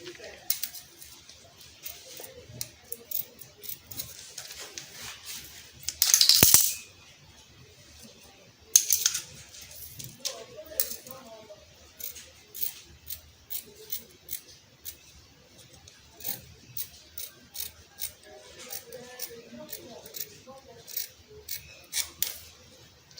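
Scissors snip through fabric while a flared gown's front is cut, giving a few loud close crisp bursts followed by many small quick clicks of blades over a quiet room.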